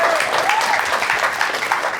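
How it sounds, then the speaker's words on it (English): An audience at a traditional Irish music program in Chicago applauds a singer and guitarists, a dense, steady burst of clapping that fills the whole moment at close range. "Give them a big round of applause"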